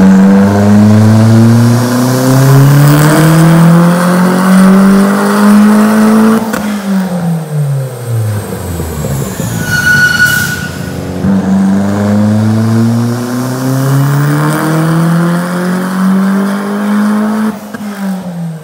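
A turbocharged Mazda Miata engine revs up loudly through a long dyno pull, drops back, then climbs again in a second full-throttle run, close and continuous.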